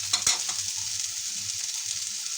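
Bitter gourd (karela) frying in a pan as it is stirred, a steady, even sizzle after a couple of brief scraping knocks at the start.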